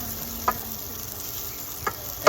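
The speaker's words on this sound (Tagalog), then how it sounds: "So, saute lang muna natin ang ating mga aromatics." Red onions sauté in a pan with a low, steady sizzle, broken by a few sharp clicks of stirring, no voices present.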